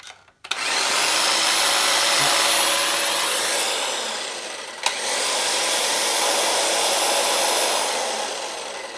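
An electric motor powered by an off-grid battery backup system starts with a click and runs as a loud, steady whirring hum, dipping briefly before resuming at full strength.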